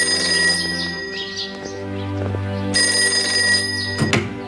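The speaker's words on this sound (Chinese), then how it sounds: "我去接下电话啊。" A telephone bell rings indoors in a bright, repeated metallic trill with short gaps between bursts, loud and close, ending with a knock-like clatter as it is picked up.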